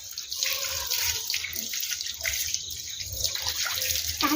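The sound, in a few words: water spraying while washing a car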